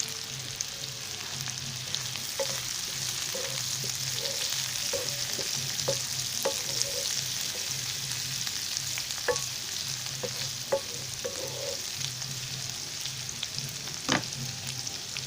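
Onions sizzle in a pan with a soft continuous hiss, while a spoon stirs and scrapes at intervals, producing scattered clicks and knocks over the frying.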